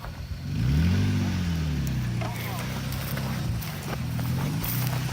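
A Nissan truck's engine crawls off-road in four-wheel low, a low rumble that swells early and then holds steady under nearby voices.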